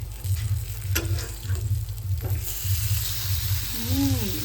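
Fish fries gently in a pan over low gas, a soft steady sizzle beneath a low rumbling hum, with a few faint clicks and a brief bit of background noise near the end.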